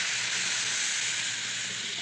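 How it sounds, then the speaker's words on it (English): Steam hisses steadily inside a steam cabinet as a sound effect in a radio comedy. The loud, broad hiss holds even, with no break or talk. "Turn up the steam, will you?"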